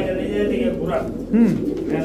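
Silver pigeons coo in low, rolling, throaty calls close by, at a market pen holding many birds, with someone talking over them.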